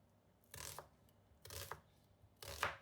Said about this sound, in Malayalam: സവാള ഇതുപോലെ മീഡിയം സൈസായി കട്ട് ചെയ്തെടുത്താൽ മതി.